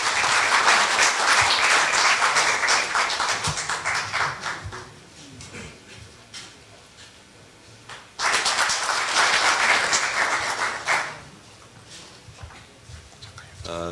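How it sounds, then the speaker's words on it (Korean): An audience at a forum's opening ceremony breaks into loud applause to welcome the forum chairman, fading partway, then swelling again in a second strong burst before dying down. "큰 박수로 위원장님 맞아주시면 감사하겠습니다"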